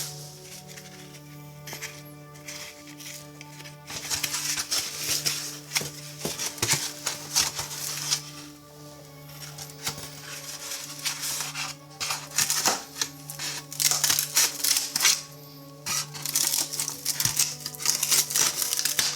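Scissors or a blade cut through a styrofoam egg carton and a thicker cardboard egg carton, giving a steady run of close, crisp snipping, crunching and crinkling sounds with short pauses in between and no talking.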